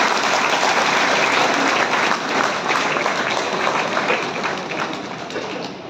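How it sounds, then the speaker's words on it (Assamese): Audience at a Bodoland People's Front triennial party conference breaking into applause, a dense, loud wash of clapping that slowly thins and fades over about six seconds. "আমাৰ সকলোৱে জোৰেৰে হাত তালি দিব"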